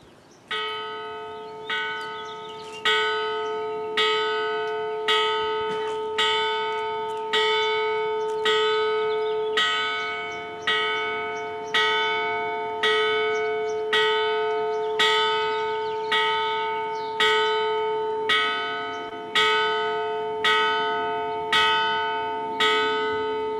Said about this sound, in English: Now we ask for everyone's silence as the bell tolls.